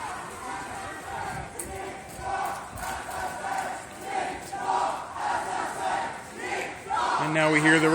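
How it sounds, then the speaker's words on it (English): A protest crowd against a police killing chants a recurring slogan in unison, a dense roar of many voices rising and falling with loud swells, busy street noise beneath. "And now we hear the recurring chant, "Cops, not assassins," coming from the crowd."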